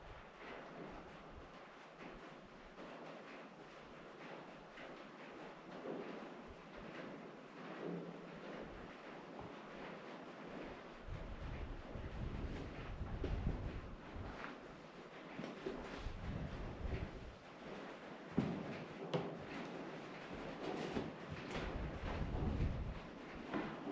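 Steady wind blowing across an old 1926 mill and tramway mine site, a broad rushing roar with gusts swelling louder toward the end, buffeting the microphone with no one speaking.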